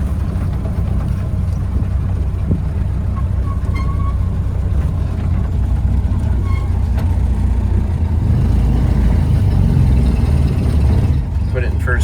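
A Model A pickup truck engine rumbles steadily while driving, a loud, continuous low drone with road and wind noise that holds throughout without letting up.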